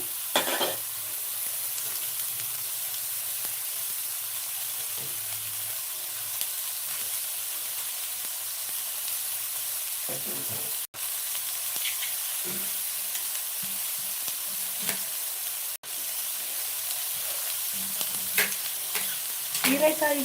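Ridge gourd stir-fry frying in a pan, a steady close sizzle and hiss running through the whole stretch with a few faint stirring scrapes and no talk.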